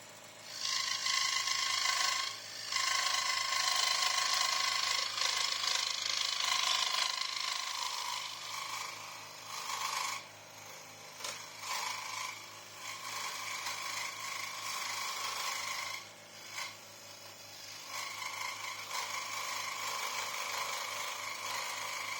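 A saw cuts animal shapes out of thick MDF in a home wood workshop, giving a steady rasping stroke noise in long continuous runs broken by a few brief pauses.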